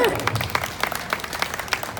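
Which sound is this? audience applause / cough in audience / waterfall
audience applause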